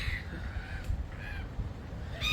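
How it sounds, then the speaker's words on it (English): Seagulls in Papatoetoe, New Zealand, give several harsh, drawn-out calls in short bursts over a steady outdoor background rumble, at moderate distance. "I thought I'd just say hello to the seagulls."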